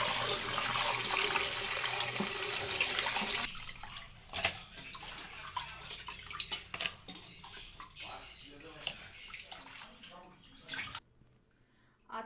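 Tap water running while 1 kg of raw chicken is washed, a steady wash of flow at first that then breaks into irregular splashes and rinsing noises, fairly close, with no talk.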